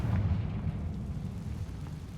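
A Confringo spell explosion in Hogwarts Legacy booms out as a deep, rumbling blast that rolls on for a couple of seconds without any voices.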